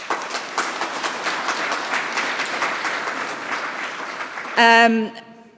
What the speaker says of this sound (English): So give yourselves a huge round of applause as well